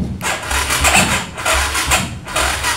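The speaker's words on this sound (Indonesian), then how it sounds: "Nah, ini mampu 13 kali starter Pak ya." A motorcycle's electric starter cranks the engine in repeated bursts, each a loud, close whirring churn separated by brief pauses, with no voices.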